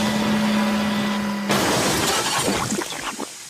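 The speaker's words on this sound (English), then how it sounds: "His flatbed biffed into the sidings to a stack of roofing slate and smashed it into tons." A flatbed crashes into a stack of roofing slate at railway sidings, giving a sudden loud smash and clatter of breaking slate that follows a steady hum and tails off into scattered debris.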